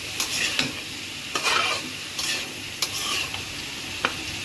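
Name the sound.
papaya bhaji stir-frying in pan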